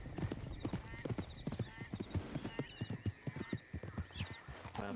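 Steady clip-clopping of horse hooves in the game RedM at a walking pace, fairly close, with a brief whinny and faint chatter underneath.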